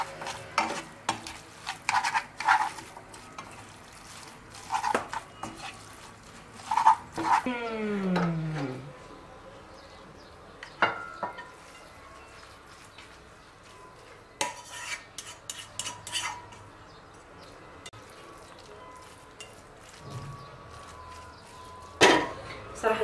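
A utensil stirs and mixes ingredients in a pan, with scattered scraping and clinking of metal against the pan and a soft sizzle between strokes. Someone speaks intermittently at a moderate distance.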